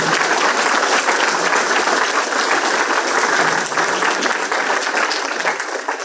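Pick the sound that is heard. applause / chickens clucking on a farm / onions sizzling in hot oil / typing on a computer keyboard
applause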